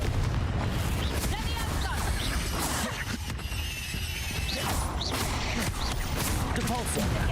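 Hogwarts Legacy spell combat erupts in booming blasts and crashes, including a Confringo blasting-curse explosion, within a dense, continuous wash of loud game effects.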